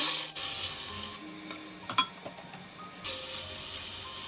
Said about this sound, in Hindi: अब इसके अंदर हम ये मैरिनेट किया हुआ चिकन डाल देंगे।